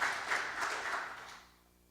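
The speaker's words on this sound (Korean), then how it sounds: "이렇게 박수 한번 해주시고요" Congregation clapping during a Sunday church service, a brief burst of applause that fades out over about two seconds.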